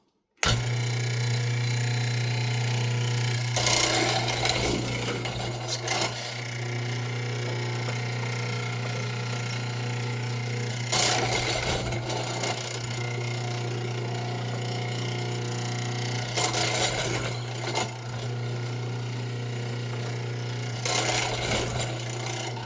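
A Powermatic 701 hollow-chisel mortiser runs with a steady motor hum while its chisel cuts a mortise in wood, with several louder grinding, crunching plunges spaced every few seconds, close and loud with no speech.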